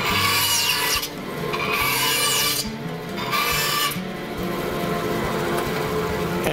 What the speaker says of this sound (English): instead of leaving this factory edge on, I will take it off on the bandsaw.